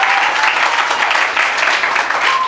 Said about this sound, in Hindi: जोरदार ताली से स्वागत हो जाए।